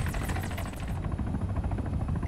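Helicopter flying in the ARMA 3 video game, a rapid rhythmic blade chop over a dense rotor and engine rumble, close and fairly loud, the chopping pulses clearest in the first second.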